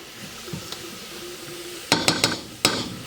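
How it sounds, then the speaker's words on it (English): Garlic being stirred in a cooking pot for a bean dish: a quiet simmer, then four sharp utensil scrapes and clinks against the pot in quick succession. "then we're just going to stir that around"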